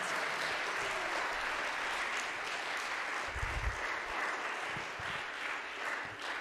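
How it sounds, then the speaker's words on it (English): A recital audience claps for the student performers, a dense sustained round of applause heard from within the room, steady throughout without pause. "Let's give them all one more big round of applause."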